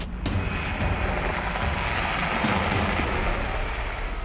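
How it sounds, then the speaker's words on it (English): A Bell UH-1Y helicopter's steady, loud engine roar with broad rushing rotor-wash wind noise fills the whole stretch, rumbling continuously without pause. "surrounded by wind, vibration, engine noise, rotor wash, and changing angles as the helicopter banks"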